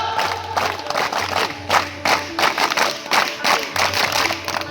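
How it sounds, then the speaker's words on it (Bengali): A crowd on an open field claps in a repeating three-beat pattern after patriotic chanting. The sharp grouped bursts of claps come close and loud, with a low background hum. "তিন তালি শুরু কর।"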